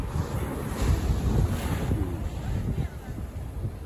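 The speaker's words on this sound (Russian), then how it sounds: "вот это вот холодный ветер" Steady gusting cold wind on a coast roars across an open microphone, with a low rumbling buffet throughout and no voices.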